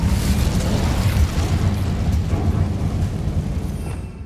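The Incendio fire spell from Hogwarts Legacy erupts in a loud, roaring, burst-like blast that carries on as a continuous crackling rumble and fades slightly at the end.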